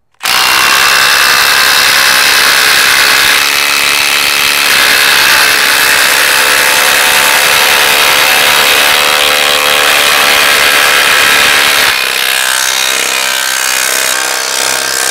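Milwaukee M18 impact drivers, a Surge and a Gen 4, driving 6-inch lag screws into wood: a loud continuous rattling hammer buzz that ends abruptly near the end, followed by a brief quieter burst.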